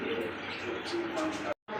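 A pair of racing pigeons coos close by in soft, throaty, repeated calls over steady background noise, with a brief dropout near the end.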